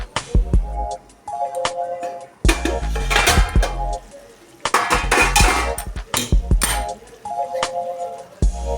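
A metal lid clatters onto a cooking pot over a low gas flame where Malabar spinach is simmering, with a series of sharp, ringing clanks and clinks close by, some bursts longer and rattling.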